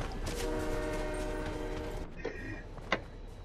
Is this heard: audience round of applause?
no